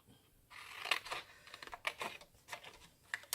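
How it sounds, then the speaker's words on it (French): Small paper squares cut for an envelope make a series of close, crisp snips and clicks, spaced irregularly across a few seconds in a quiet room. "Et là aussi, je découpe mes petits carrés."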